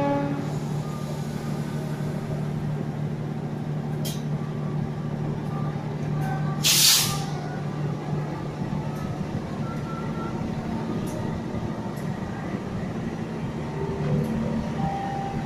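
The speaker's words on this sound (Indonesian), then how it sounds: "jalur 3 kereta api melintas langsung" A steady low rumble of a train rolling straight through track 3 of an Indonesian railway station without stopping, with a brief hiss of air partway and faint announcement-like tones in the background.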